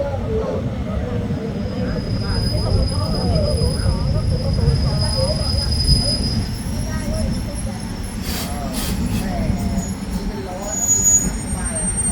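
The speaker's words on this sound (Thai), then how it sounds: "ขบวนรถที่กำลังจะเข้าสู่สถานีบ้านโป่งในชานชาลาที่สอง" An ordinary passenger train pulls into platform two at Ban Pong station in Thailand with a loud, continuous rumble and squealing wheels, while a public-address announcement plays over the noise.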